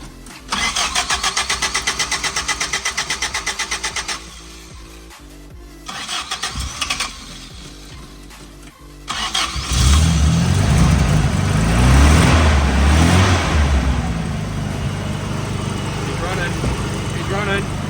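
A barn-find 1984 Toyota Hilux 4x4 with a fuel problem cranks in rapid, even pulses, stutters, then fires and settles into a loud, rough running engine, with voices talking now and then.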